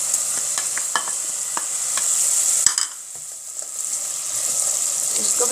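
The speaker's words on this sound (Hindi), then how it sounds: "कुटा हुआ लहसुन अदरक इसके अंदर शामिल करेंगे।" Crushed garlic and ginger are stirred in hot oil for a kaddu kofta, with steady close sizzling and several sharp scrapes and taps of a spoon against the pan, dipping briefly quieter partway through.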